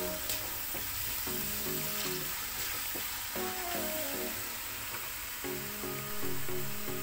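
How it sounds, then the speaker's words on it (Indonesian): Coriander and salt fry in a pan with a steady, close hissing sizzle that stays continuous and even, with faint stirring scrapes and a soft tonal hum running underneath. "itu karena kita menggoreng dulu garamnya"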